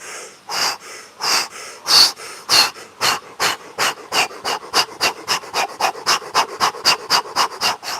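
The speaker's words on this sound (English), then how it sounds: "Mouth breathing is going to be very effective right now." Heavy mouth breathing during a breathing-exercise sprint: loud, close, rhythmic huffs that start spaced and quicken into rapid panting, about two dozen breaths with no speech.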